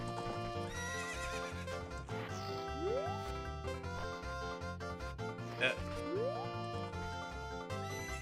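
A horse in The Legend of Zelda: Ocarina of Time whinnies twice, a few seconds apart, each a rising neigh over steady game music, with soft hoof clip-clops.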